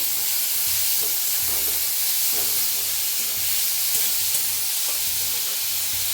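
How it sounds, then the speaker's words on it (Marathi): Chopped onion and asafoetida fry in a hot pan, giving a steady, close sizzle and hiss that runs unbroken throughout, with faint stirring clinks and no talking. "त्याच्यात टाकूया थोडीशी हिंग आणि कांदा असा चोपरनं बारीक असा करून घेतलाय बघा तर छान असं भाजून घेऊया"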